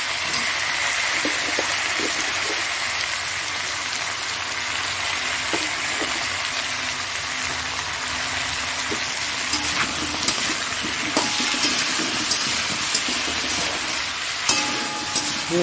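Tomato and potato frying in hot oil in a pan alongside fish, a steady loud sizzle and crackle throughout with occasional sharper pops and stirring clatter near the end.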